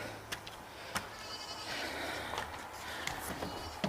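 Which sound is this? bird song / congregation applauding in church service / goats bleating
goats bleating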